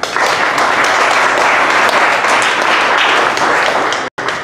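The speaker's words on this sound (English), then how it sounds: "Please give him a round of applause." A tech conference audience bursts into dense, steady applause that holds at full strength throughout before cutting off abruptly near the end.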